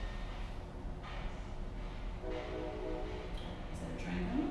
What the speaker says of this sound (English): Is that a train coming?